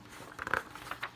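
Thick pages of the American Vampire Omnibus Vol. 1 comic book are handled, giving a brief, faint papery rustle with a couple of soft flicks up close.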